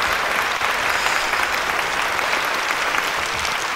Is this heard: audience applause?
yes